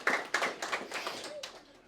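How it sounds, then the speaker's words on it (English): Round of applause at an annual awards ceremony honouring a cricket foundation's runners-up finish, heard as a short burst of hand claps that swells and then thins out over about two seconds. "a big round of applause for congratulations on the Hamro Foundation finishing runners-up Division 4"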